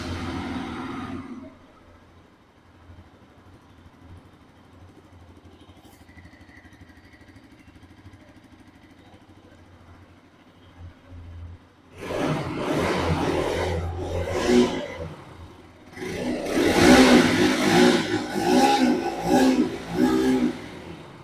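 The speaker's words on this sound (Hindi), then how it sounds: "इसका जो एग्जॉस्ट साउंड है उसको देख लेते हैं कि कैसा होने वाला है" A Bajaj Pulsar RS 200 motorcycle exhaust idles with a low, steady rumble for several seconds, then revs up in loud, repeated bursts that swell and fall near the microphone.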